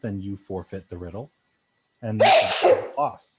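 A single loud, close sneeze bursts out right after a person finishes speaking, followed by a brief breathy trailing sound.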